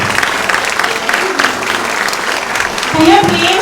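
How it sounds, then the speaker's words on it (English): Diners at a celebration dinner applaud Jessica, with steady clapping that fills the room while voices talk and call out over it toward the end. "Can we give her a round of applause again?"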